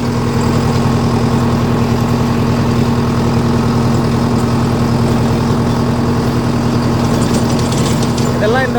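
A Sonalika 75 hp tractor works in a field with its engine running in a loud, steady, throbbing hum at close range, with voices faintly audible over the drone.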